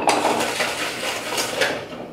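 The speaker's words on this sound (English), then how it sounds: "whisk 100 grams of sugar into our 6 egg yolks" A whisk beats sugar into six egg yolks in a bowl, giving a continuous scraping and clinking against the bowl. It is loud and close, with no voices.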